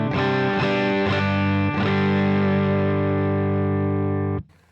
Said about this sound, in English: this is just to remind you what the amp sounds like without the pedal